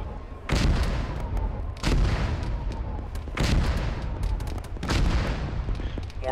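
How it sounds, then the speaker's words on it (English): Mortar rounds thud and boom in a military video game set in a wintry battlefield, heavy impacts landing every second or so amid a continuous rumbling barrage of gunfire. "Mortars in the tree line across from two."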